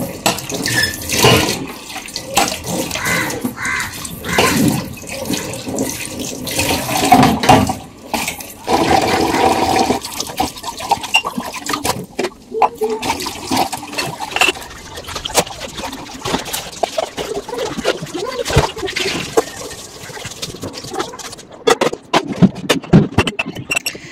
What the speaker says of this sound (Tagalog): Maghugas muna ako ng pinggan.